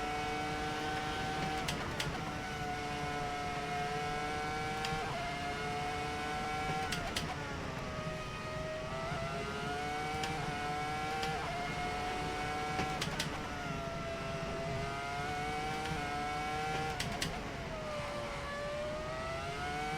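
A race car engine in Assetto Corsa drones steadily with a high, rising and falling whine as it shifts gears, with small clicks between shifts, fairly faint.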